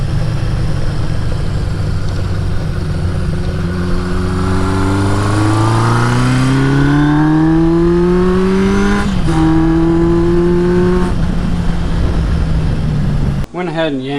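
Honda CB550 motorcycle engine running while riding, its pitch sweeping steadily upward through the gears with a brief dip near the nine-second mark, loud and close throughout, then cut off abruptly just before the end.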